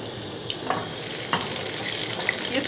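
Slit green chillies fry in hot oil for spiced potato slices, giving a continuous close sizzle broken by a few sharp clicks of stirring.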